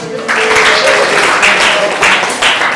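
A class of students claps together in a classroom, a short burst of close, dense clapping with a teacher's voice briefly heard at the start.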